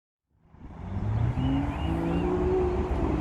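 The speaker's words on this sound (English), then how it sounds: "that's a Aston Martin just going by V12." An Aston Martin V12 car drives past outdoors, its engine note rising from silence into a loud, steady roar with a rising tone as it passes close by.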